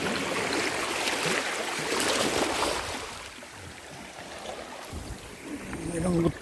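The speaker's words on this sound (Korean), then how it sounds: "파도가 너무 셉니다." Strong ocean waves wash and break along a shore at a dinosaur fossil site, a loud rushing surge that eases off midway, then swells again near the end.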